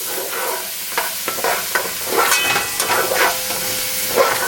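Vegetables sizzling in a hot pan for squash, lentil and chickpea soup, a loud steady hiss broken by scraping stirs and clatters of the utensil against the pan.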